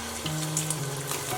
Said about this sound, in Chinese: 再倒入搅拌好的辣椒鸡蛋